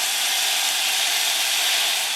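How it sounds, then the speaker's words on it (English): Chicken pieces sizzle in melted butter inside an electric pot on a camp kitchen setup, giving a steady, even hiss with no talking over it. "Let's put our chicken in there"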